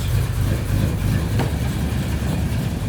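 A cammed Chevrolet Silverado shop truck engine running through the gears, a loud continuous low rumble with a lumpy idle-like throb, close and steady with no speech.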